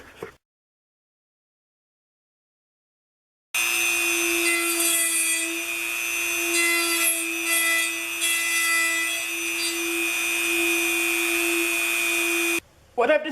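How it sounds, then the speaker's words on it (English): A router cutting a design into clamped wood runs as a steady, loud whine with a sustained tone and rough cutting noise for about nine seconds, following a stretch of silence and then stopping abruptly. "see if I can router out the design that I want"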